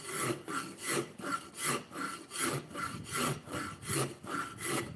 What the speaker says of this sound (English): for doing hot rasping, they work really good